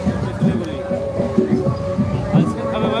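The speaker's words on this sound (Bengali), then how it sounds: "ট্রেন আসছে ট্রেন আসছে" A train rumbles close by with a rhythmic clatter of wheels on rails, loud and continuous, with no talking.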